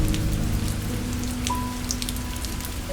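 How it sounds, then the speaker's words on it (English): Steady, dense rain falls in a Japanese bamboo forest, a constant close patter on leaves and surfaces with no pauses, alone and even throughout. "The rain will keep watch through the night."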